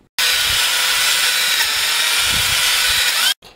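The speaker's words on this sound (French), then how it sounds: "Je vais le mettre ça sur une perceuse, et pendant 30 secondes, des oscillations de vers le haut, vers le bas." A power drill spins a cylinder hone in a Fiat Seicento Fire 1.2 engine block continuously for about three seconds with a steady high whirring hiss, loud and close, then stops abruptly.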